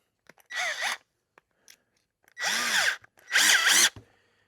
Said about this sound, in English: So, let me make sure I get these drilled out.